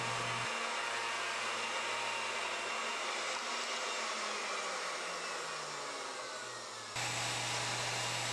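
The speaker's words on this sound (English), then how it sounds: "Here we use the rope molding bit to create the pillowed diamond." A Legacy 1800A ornamental woodworking router mills a pillowed diamond pattern with a rope molding bit, a loud, steady motor whine with cutting noise. The sound shifts at the start and again near the end.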